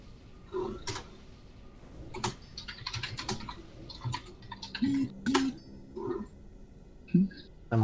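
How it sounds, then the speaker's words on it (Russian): Rapid clicking of keys on a computer keyboard, irregular bursts of close taps and clacks with short pauses, fairly loud and without talk. "я всегда слышу, как он набирает"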